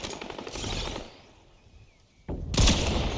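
Gunfire in the video game Fortnite: a dense rattling burst of shots, a quieter lull, then another loud burst of rapid fire close up, with no talking over it.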